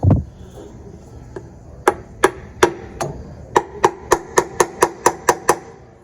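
Sharp taps seat an engine side cover into place during gasket reassembly: a couple of isolated knocks, then a rapid, evenly spaced run of about a dozen close, crisp hits.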